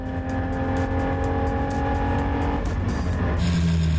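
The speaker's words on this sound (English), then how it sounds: "his BP Porsche 911R as he heads through the speed and sound sweep" Engine of a Porsche 911R race car on a racetrack, a loud, continuous engine drone with a shift in pitch near the end, heard without any talking.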